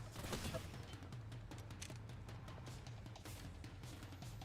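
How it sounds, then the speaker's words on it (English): Triple Take sniper rifle shots fired in Apex Legends tournament gameplay, a run of sharp cracks in quick bursts over a steady low rumble of battle ambience. "Great shots with the triple take."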